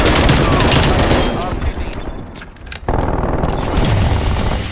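Hostile sentry turret fire in the shooter game Call of Duty: Cold War, a dense sustained burst of rapid automatic gunfire with booming impacts, dipping briefly before the loud barrage resumes.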